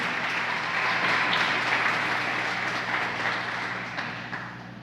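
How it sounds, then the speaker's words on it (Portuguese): A church congregation applauds at a worship service, a steady wash of clapping that holds at an even level for several seconds and thins slightly toward the end. "Você pode aplaudir ao Senhor mais uma vez"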